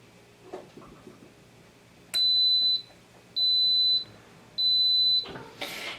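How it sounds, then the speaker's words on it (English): Three long, steady electronic beeps from a yogurt maker, evenly spaced, each lasting about half a second, with light handling noises before and a clatter after. "it should beep here right away"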